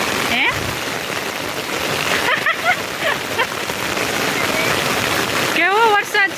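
A torrential monsoon downpour drums loudly and continuously over a waterlogged residential society, a dense, close roar of rain with brief voices and chirping sounds breaking through at moments.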